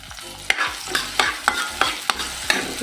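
Okra sizzling in a pan as it is stir-fried, with a spatula scraping and tapping the pan in a steady rhythm about every half second over continuous close frying hiss.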